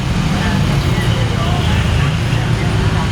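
Dense roadway noise of cars and buses rolls on without a break, a close, loud low rumble carrying throughout.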